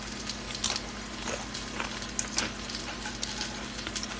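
Crisp Weiss potato chips crunch in a series of sharp, irregular bites and chews, close and fairly quiet, with no talking.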